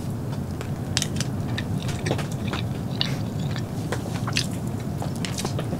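Chewing and biting on food at a snowy solo camping meal of mussels, broccoli and crab, steady close-up wet munching with small crunches, no speech.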